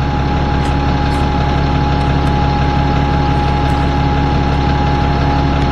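A bus engine in the Virtual Bus simulator game idles with a steady low, heavy rumble throughout, loud and constant, with small clicks on top.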